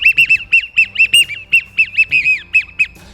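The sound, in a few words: duck call imitating wigeon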